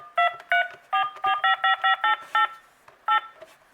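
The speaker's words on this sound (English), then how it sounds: "I just want to show you the dial tone." A VTech CS-6858 DECT 6.0 cordless phone sounds a run of sharp, evenly spaced dialing tones, about ten crisp beeps in quick bursts with short gaps, loud and close, with no talk over them.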